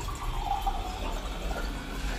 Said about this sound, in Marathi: मी पाणी घेते इथून